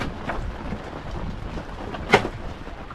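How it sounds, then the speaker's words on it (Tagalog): Steady rain falls outdoors on a fishing outing, a dense even hiss throughout, with one brief sharper knock or splash partway through. "Ulan na naman."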